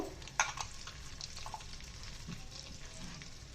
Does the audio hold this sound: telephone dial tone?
no